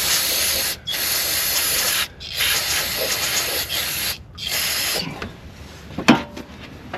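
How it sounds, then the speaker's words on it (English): Brake cleaner sprayed from an aerosol can onto a gooey transmission line clip on a 2004–2008 Dodge Ram 2500, heard as close, loud hissing bursts separated by brief pauses, followed by a few small metallic clicks. "Let's spray it with some brake cleaner."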